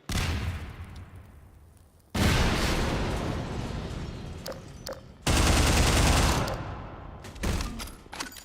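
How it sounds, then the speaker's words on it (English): Gunfire in the video game Half-Life 2 comes in loud sustained bursts of rapid shots with sharp single cracks between them, each burst decaying into echoing tails, with no talk. "Where are those shots coming from?"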